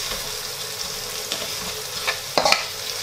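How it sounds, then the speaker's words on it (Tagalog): Onions stirred in a hot pan while cooking pancit canton: a steady, soft frying hiss with a few light scraping clinks from the utensil near the end. "haluin lang natin siya. And then, antayin natin na maging translucent na yung onion natin."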